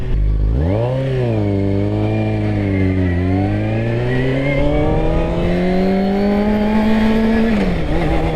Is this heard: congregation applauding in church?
no